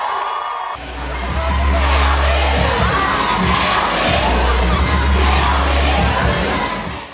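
A live show audience erupts in loud cheering, whooping and shouting, a dense crowd roar that swells after a brief pause and holds steady before easing off at the end.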